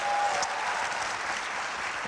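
Conference audience at an open government regional meeting applauding steadily after speakers are introduced, a dense, even wash of clapping throughout.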